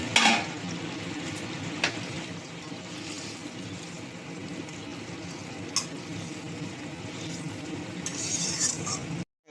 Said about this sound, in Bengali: ঝোলটা ভালোভাবে ফুটে গেছে, ভেজে রাখা মাছগুলো দিয়ে দেবো।